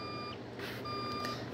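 Repeated electronic beeps of a Roblox truck reversing sound at a steady pace, a high tone pulsing on and off, faint and alone.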